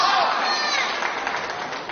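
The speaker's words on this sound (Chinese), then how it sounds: "随着比赛越发紧张激烈，也引来了赛场边的阵阵掌声。" Applause from spectators at the side of a competitive ball match in Fushun rises as a dense, steady patter of many hands, fairly close and continuous for the whole moment, with no clear voices over it.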